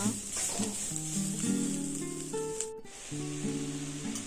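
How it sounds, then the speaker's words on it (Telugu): Washed drumstick (moringa) leaves fry in a pan, a soft, even sizzle with light stirring under steady tonal backing sounds, fairly quiet and close, with a brief dip near the middle. "మునగాకును మంచిగా వాష్ చేసుకొని ఇలా బాగా ఫ్రై చేసుకోవాలి ఫస్ట్"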